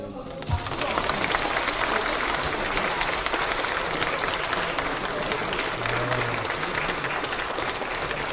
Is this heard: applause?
yes